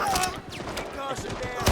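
Rapid bursts of automatic gunfire crackle in the Delta Force video game's Black Hawk Down campaign, with sharp close shots overlapping a voice talking over the fire.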